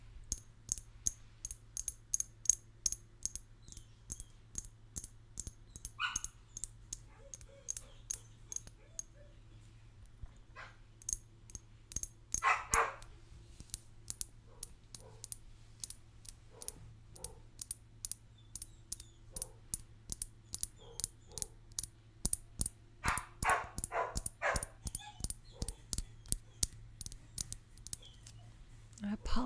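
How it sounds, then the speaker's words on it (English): Dogs barking in an apartment complex, faint and distant, in a few short bursts behind constant close clicking and tapping, with soft talking at times. "I apologize about the dog barking."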